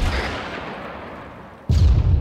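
Artillery fires in Arma 3, a heavy boom that starts at about 1.7 seconds and rumbles loud and close. It follows the fading tail of an earlier blast.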